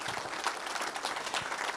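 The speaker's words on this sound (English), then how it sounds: "let's give a big round of applause for Simmons Bank" Audience applause for presenting sponsor Simmons Bank at a Little Rock Touchdown Club press event: a dense, steady wash of many hands clapping at moderate volume throughout, with no talk over it.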